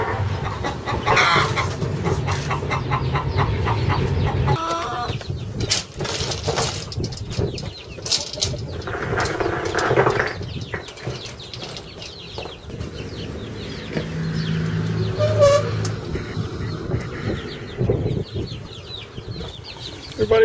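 Young chicks cluck and cheep while being moved from a brooder to a big barn coop by wagon, with scattered bird calls and fluttering mixed with handling noises across the span.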